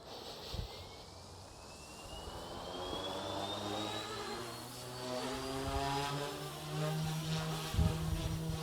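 A Radiomaster-controlled RC helicopter spools up for its maiden takeoff, its motor whine rising steadily in pitch while the rotor hum thickens, fairly near and alone without talk.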